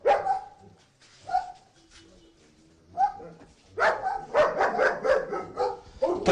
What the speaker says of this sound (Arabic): هناك قفص كبير به حوالي 5 كلاب حراسة شرسة